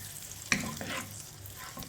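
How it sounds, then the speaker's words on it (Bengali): Raisins frying in hot ghee on the stove give a soft, steady sizzle, with one sharp clatter of stirring near the start and faint scraping after it. "এখন আমি এই ঘিতেই কিশমিশগুলো ভেজে নেব।"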